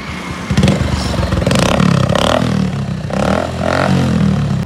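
A Bajaj Platina motorcycle fitted with a modified silencer rides along with a loud, rough exhaust note that swells and eases in repeated surges of revving, accompanied by rattling and clatter throughout.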